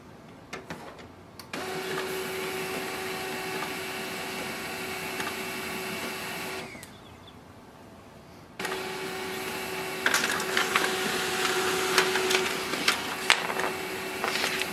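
An HP LaserJet M208dw laser printer whirs and hums steadily as it feeds and prints a page, pausing briefly midway before resuming with clicking and rattling mechanical sounds.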